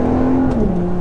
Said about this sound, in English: Let's listen to that engine.